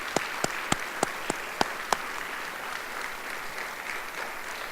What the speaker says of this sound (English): I want to hear applause for my friend, Scott, because he came here.